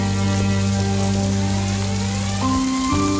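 Steady rain pours down throughout, a dense continuous hiss, with a low tonal hum underneath that shifts partway through; no one speaks.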